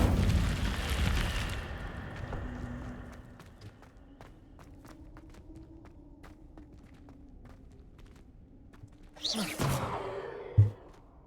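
An Incendio fire spell cast in Hogwarts Legacy gives a sudden whooshing burst near the end, after a stretch of quiet footsteps and low ambience, with a sharp flare of noise closing the moment.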